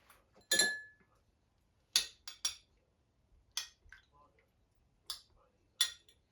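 Lime slices drop one by one into a glass of sangria, giving about seven bright glassy clinks and plops with quiet pauses between them, close and isolated against near silence.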